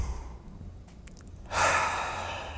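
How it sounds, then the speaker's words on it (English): After a near-quiet stretch with a few faint clicks, a single deep breath is drawn in sharply through the mouth, a close, airy rush that swells and then holds steady. "Now, everybody just take as deep a breath as possible."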